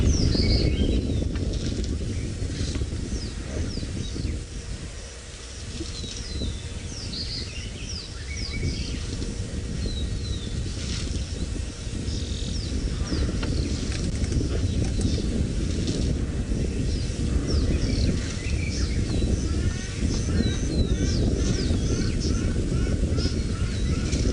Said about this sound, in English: Isn't that cool? All the different birds calling.